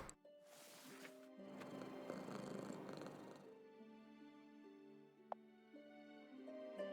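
Soft, low purring of a small fluffy cat in a video game, quiet and continuous over gentle game music tones, with no talk.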